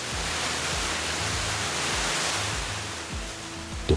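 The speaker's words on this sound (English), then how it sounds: "The hardened rock now channels the water into narrow, powerful torrents" Petrohue Falls roars as a steady broadband rush, with water forced through hardened volcanic rock into narrow, powerful torrents. A low repeating thump, likely wind, buffets underneath.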